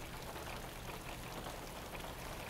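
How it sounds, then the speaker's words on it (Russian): Rain is beginning to fall outside at night, a soft, steady hiss of drops landing on surfaces, faint and unbroken with no voices. "И поторопись, начинается дождь."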